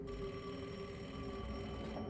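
A telephone bell rings steadily and fairly loudly through the whole moment, a continuous electronic trill over a faint room hum, with no one speaking.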